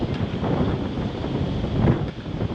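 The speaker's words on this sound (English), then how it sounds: "It is windy." Strong wind buffets a fishing boat out on the water during a spring prespawn bass outing, a steady loud rushing roar with gusts swelling near the end, no voices.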